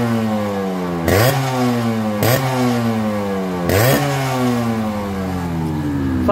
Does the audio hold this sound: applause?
no